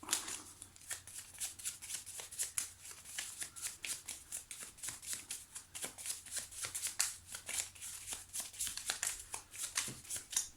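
Tarot cards are shuffled and drawn up close, a continuous run of quick papery riffles and crisp snapping taps with no talking.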